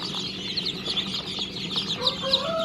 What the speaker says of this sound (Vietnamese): Đây là đàn gà hơ mông vừa mới nở ngày 29 tháng 7